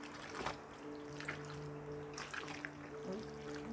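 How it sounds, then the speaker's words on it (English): Water spills and trickles softly beside a pot of lobster mac and cheese, a faint, uneven splash and dribble over a steady low kitchen hum. "Water spilling a little bit, sorry."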